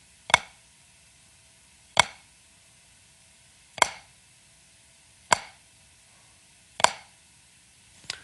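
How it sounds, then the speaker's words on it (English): Five tight drum flams struck one after another at an even, unhurried pace, each a crisp, nearly single-sounding hit, close and clear. "you want your flam to sound like this."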